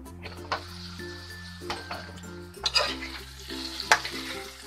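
Fava bean and potato sabzi frying in a pan while being stirred, soft sizzling with intermittent scraping and clinks of a spoon, quiet and close, with a steady hum behind.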